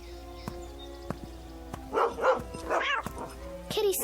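A dog barks at a cat in a few short, close, loud bursts clustered late in the clip, over a quiet background of steady tones and occasional soft thuds.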